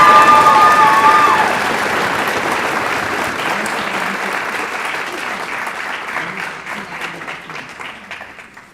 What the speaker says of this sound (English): So let's give her one more round of applause, please.